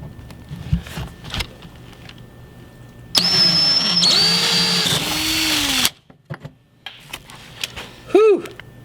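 A power drill bores into material through a pilot hole, sounding as a loud, whining burst of about three seconds that rises and dips in pitch. Faint clatter and handling noises come before and after it, with a short tonal chirp near the end.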